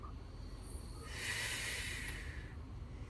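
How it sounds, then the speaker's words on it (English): A slow, steady breath during a Pilates mat workout, with a soft hissing exhale building up and fading away over a few seconds. It is close and quiet, heard alone with no talk over it. "Breathing in and out."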